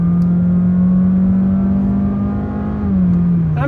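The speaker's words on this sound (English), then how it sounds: "This Honda engine, you have this typical Honda sound to it" A 2023 Honda Jazz facelift engine drones steadily from the cabin while driving, holding one pitch, then dipping briefly and rising again as the revs shift.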